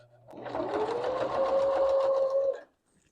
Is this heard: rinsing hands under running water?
no